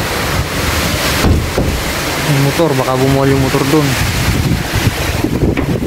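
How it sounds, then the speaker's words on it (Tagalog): Loud, roaring Typhoon Uwan wind buffets the microphone nonstop in the Philippines, with a voice briefly speaking partway through beneath the constant gusting rush. "Lakas ng hangin."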